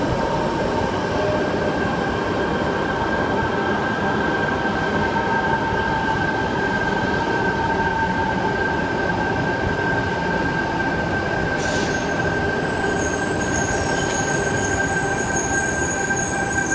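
A Sydney Tangara electric train pulls into a platform at Bondi Junction station, a steady loud rolling rumble with a sustained tonal whine and a brief high wheel squeal near the end, no voices.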